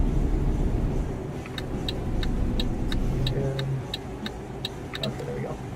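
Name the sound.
truck engine accelerating in Euro Truck Simulator 2 video game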